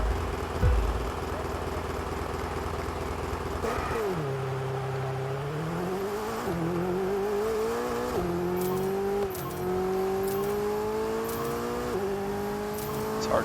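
Ferrari Roma engine in a racing video game, revving with rising pitch sweeps through repeated gear changes, loud and steady throughout the lap.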